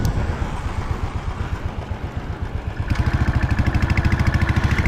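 A Benelli TNT 300 motorcycle engine running on an empty road, a loud, close, throbbing exhaust note that turns into a fast, steady, even pulse as the revs climb partway through.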